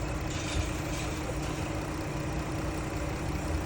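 A car engine idles steadily during an air-conditioning recharge, a continuous low rumbling drone with no talk.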